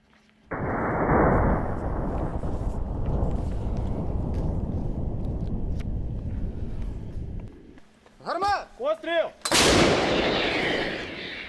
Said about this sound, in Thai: ยิงปืนใหญ่วิถีโค้งรุ่น M777 h o w i t z e r พุ่งเป้าโจมตีฐานที่มั่นของรัสเซีย